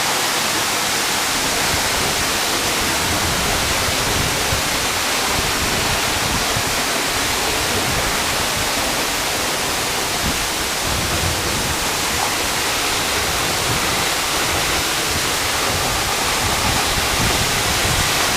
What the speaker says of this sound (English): It's a lot of water.